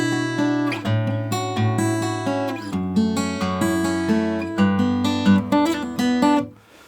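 A clean guitar riff of ringing picked notes and chords, steady and rhythmic, played close and alone for several seconds before fading.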